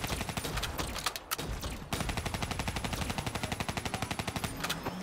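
Rapid automatic gunfire in Call of Duty: Black Ops 3, with a short burst, a brief pause, then a long, fast, evenly spaced stream of loud shots and no talking over it.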